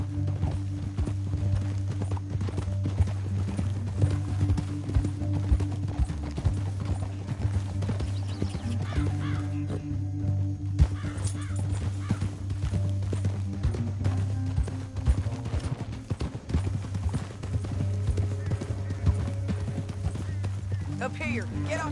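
Horses' hooves clip-clop steadily in Red Dead Redemption 2, riding through a canyon, with an occasional whinny over a continuous low game soundtrack while characters talk throughout.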